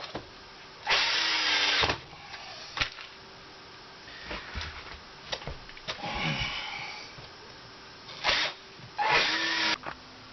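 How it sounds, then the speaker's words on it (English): A power drill driving screws into the wooden floor of an RV during a repair. Several separate whirring bursts of a second or so each, near and fairly loud, with quiet pauses between them. "I put extra screws down right there to hold that floor in place."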